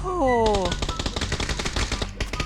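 Rapid automatic gunfire in the video game PUBG, a loud burst of repeated shots following a brief falling tone, with faint voices underneath.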